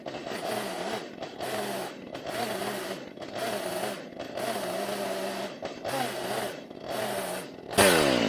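A saw cutting off the edges of a tree stump being made into a stool, loud close bursts of motor-driven cutting in repeated strokes with brief pauses between them, ending in a sharper whine.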